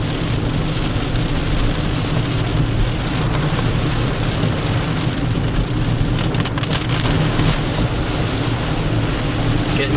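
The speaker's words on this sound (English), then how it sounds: "Lots of heavy rain though." Heavy rain from Tropical Storm Isaias drums loudly and continuously on a moving car, a dense unbroken roar on the roof, with a low rumble underneath and no voices.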